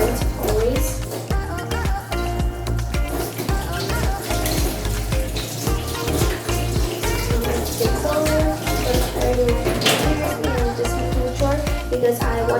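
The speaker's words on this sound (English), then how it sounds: "when you're cooking, you must always wash your hands, always" Tap water runs steadily into a kitchen sink while hands are washed before preparing fruit salad, a loud continuous splashing with clattering and shifting flow throughout.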